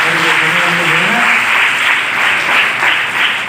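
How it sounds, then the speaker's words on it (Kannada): Loud, sustained applause from an audience at an International Women's Day event held at BRIMS hospital, dense clapping steady throughout, with a brief voice at the start. "ಜೋರಾಗಿ ಚಪ್ಪಾಳೆ ಮುಖಾಂತರ"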